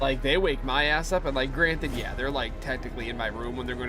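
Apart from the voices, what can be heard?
No everyday noises stand out.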